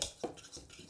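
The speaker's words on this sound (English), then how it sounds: "whisk it like this" Butter being whisked in a bowl, quick faint scraping and clinking strokes of the whisk against the bowl, close and brief.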